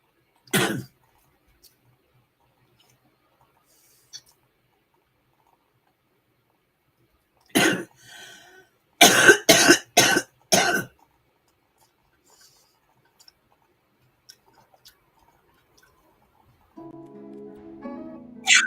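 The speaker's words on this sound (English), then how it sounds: "Excuse me, I still got a cough." A person with a lingering cough coughs and clears their throat in sharp, separate bursts, including a quick cluster of four or five close coughs, with quiet pauses between and a faint hum of other sound near the end.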